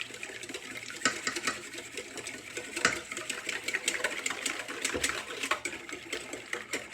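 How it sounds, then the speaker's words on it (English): Eggs being whisked with heavy cream in a bowl for a quiche: a quick, continuous rattling whisk with liquid sloshing, fairly soft and close, with no talk over it. "I'm adding 2 eggs, and I will whisk those together."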